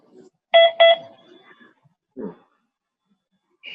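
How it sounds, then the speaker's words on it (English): Phone alert tone going off, two bright electronic beeps in quick succession, followed by a brief low sound and another short tone in a quiet room. "That was your phone going off?"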